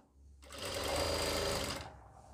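A sewing machine runs steadily for about a second and a half while stitching pant fabric with a front belt and back elastic waist. It is close and loud, with a dense mechanical whir that starts and stops abruptly and has no talking over it.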